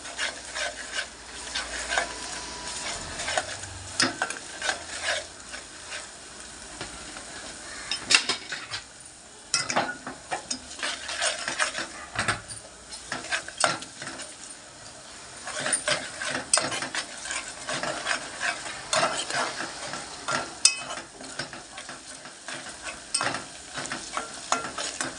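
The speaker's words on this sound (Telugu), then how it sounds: "ఉల్లిపాయ వేద్దాం. అల్లం వెల్లుల్లిపాయ పేస్ట్ వేసాను. ఇది వేగనిద్దాం బాగా." Chopped onion and ginger-garlic paste fry in a pan for a Telugu broad bean and sesame curry, with a steady sizzle broken by frequent scraping stirs and utensil clinks against the pan, close up and continuous.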